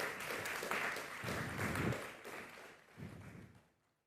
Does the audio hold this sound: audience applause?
yes